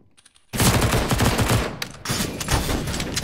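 Guns fire in rapid, loud bursts in the video game CS:GO, starting abruptly after a quiet moment, with a brief gap before the firing resumes.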